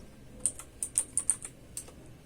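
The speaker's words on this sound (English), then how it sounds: "Now type disk part." Quick burst of about eight crisp key clicks from a computer keyboard, close and fairly quiet, typed in an uneven rhythm with no talking.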